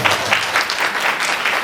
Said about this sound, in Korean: 고생하신 당사분께 큰 박수가 부탁드립니다.